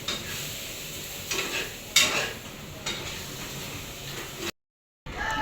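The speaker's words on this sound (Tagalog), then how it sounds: "Diyan po naman po yung nagsasangkot siya po ng karne." Meat stirred and sautéed in a pan for dinuguan, with soft sizzling and scraping stirs, louder bursts of clatter from the utensil against the pan, then a brief cut to silence before the sizzle returns.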